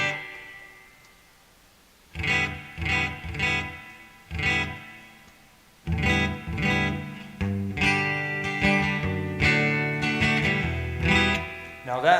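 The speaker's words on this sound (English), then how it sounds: "That's the PV amp right there in the clean mode, traditional clean mode." Electric guitar played through a PV amp in traditional clean mode with a little reverb, heard alone: a few separate strummed chords at first, then steadier continuous playing with ringing, sustained notes.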